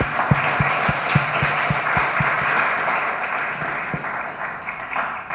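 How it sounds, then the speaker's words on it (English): Sustained audience applause at a youth innovation festival, a dense steady wash of many hands clapping with a few sharper individual claps standing out near the start, loud and continuous with no talking over it. "So a huge round of applause to all the young innovators."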